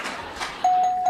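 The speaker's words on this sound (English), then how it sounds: "Some prude just rang the bell." A doorbell chime rings out partway through, a clear sustained electronic tone rising above a quiet, noisy room.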